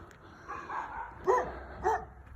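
A dog barks a few times in quick yips and short woofs, somewhat distant and moderately loud, heard along a walk in Weedville near a camp.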